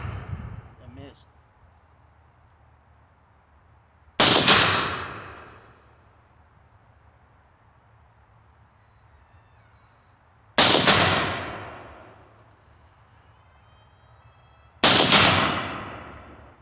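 Three sharp rifle shots strike a 3/8 inch hot roll steel plate, each a loud crack with a ringing decay, spaced several seconds apart with quiet between them.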